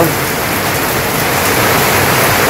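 Steady, loud rain falling in a village setting on a cloudy morning, a dense unbroken hiss of drops pouring down without pause.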